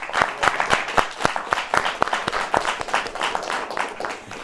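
A studio audience on a talk show applauds in a tribute, a sustained patter of many hands clapping at moderate volume for several seconds, with no speech over it.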